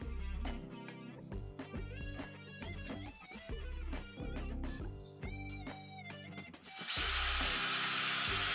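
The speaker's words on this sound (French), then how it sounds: "On perce en travers pour la vis pointeau." A drill bores crosswise through a guitar knob to take a set screw, giving a string of short whirring bursts that start and stop, then a louder, rougher stretch of cutting at the end, close by and with no speech.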